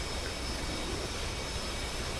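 A military aircraft comes in to land in the DCS flight simulator game, a steady broad roar of jet engine noise filling the scene without pause.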